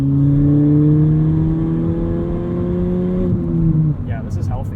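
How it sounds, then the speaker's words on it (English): Loud in-cabin engine drone from a straight-piped 2017 Ford Fiesta ST accelerating, its steady rising tone easing off near the end as a voice speaks over it. "It has this really weird induction tube sound that's piped in from the engine bay."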